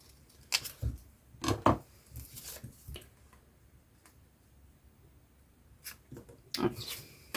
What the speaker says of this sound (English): Bring in the big scissors.